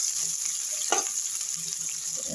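Onions fry in a pan with a steady, soft sizzle, broken by a couple of brief stirring scrapes, close and fairly quiet.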